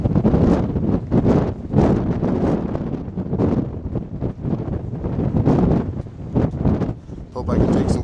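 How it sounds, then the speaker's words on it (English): Strong gusty wind buffets the microphone on the deck of a cruise ship, a loud rough roar surging and easing in waves from start to finish. "Bad wind."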